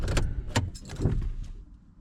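A car is brought to a stop and its engine switched off: a couple of close rumbling thumps and clunks, then the sound fades quickly into quiet.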